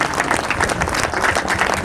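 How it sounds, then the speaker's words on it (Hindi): An audience at a speech event claps with steady, dense applause, filling the hall loudly throughout with no voices heard. "सभी के लिए एक बार जबरदस्त तालियां"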